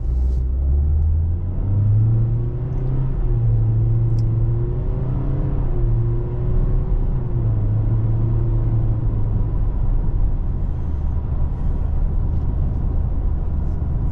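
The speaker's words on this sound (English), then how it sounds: "Now we're going to feather in the gas and take off," A 2024 Toyota Corolla SE Hatchback with a new engine pulls away under gently feathered throttle, its engine note rising smoothly over a steady road rumble heard from inside the cabin, with no talking.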